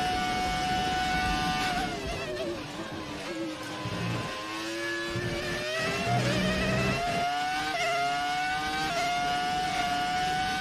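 A Ferrari F2004 Formula 1 car driven by Charles Leclerc at Fiorano screams close by. Its high-revving V10 rises and falls in pitch through repeated upshifts and throttle lifts, loud and continuous.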